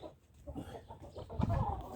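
Chickens cluck in short, irregular bursts while pecking at bran feed beside sheep on a farm, close by, with farmyard shuffling that grows louder toward the end.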